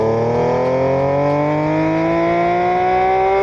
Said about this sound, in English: We made it sound epic with 6-to-1 headers.